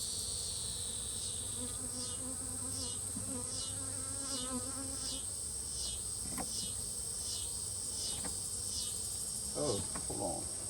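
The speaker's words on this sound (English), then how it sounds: "There's lots of bees right here." Honeybees buzz around an open hive in a soft, continuous drone. Faint insect chirps repeat steadily and a few light clicks and knocks come through near the end.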